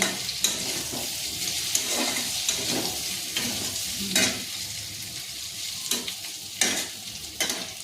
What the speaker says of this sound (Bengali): এই যে তো আলু জিরা দিলাম তেলের মধ্যে